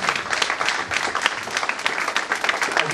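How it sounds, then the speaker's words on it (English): A large audience giving a standing ovation at an award ceremony, dense steady clapping filling the room for a few seconds. "A huge round of applause, a huge standing ovation, celebrating our heroes."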